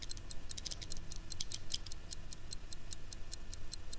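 In the horror game Knock Knock, a clock is being wound and ticks in a quick, even, sharp rhythm. The ticking continues steadily and faintly over a low, murky background hum.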